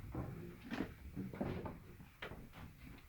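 A wooden door in a rustic Amish cabin is opened quietly, giving a few soft knocks and creaks spread over a few seconds in a calm room.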